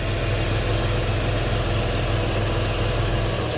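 A Porsche 986 engine idles steadily close by, a constant low mechanical hum with an even, slightly pulsing texture and no talk.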